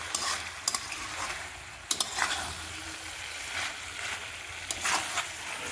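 Onions for a pork curry sizzle in a pan while a spatula stirs them, giving a continuous frying hiss broken by several sharp scraping clacks, close and moderately quiet.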